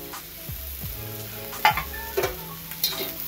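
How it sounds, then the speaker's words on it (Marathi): Onion roasting in a pan with coriander seeds and coconut added, a soft sizzle under intermittent stirring scrapes and a few sharper spoon knocks against the pan, close and with no talk. "आता आपला कांदा भाजत आलेला आहे, त्यात टाकूया आपण धने आणि खोबरं"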